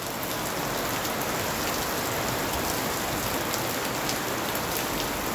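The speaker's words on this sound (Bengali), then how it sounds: "দারুণ বৃষ্টি" Heavy rain falling steadily, a dense, even hiss of drops on surfaces that stays constant and fairly loud throughout with no voices.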